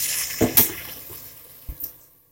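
Curd and water poured into a pot of rice for mushroom pulao, giving a couple of short liquid splashes and glugs close by, then a quieter trickle that fades out before a final knock.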